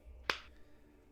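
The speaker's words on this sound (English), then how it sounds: "I hear that little clap." A single small clap or snap sounds once, sharp and brief, against quiet background hum.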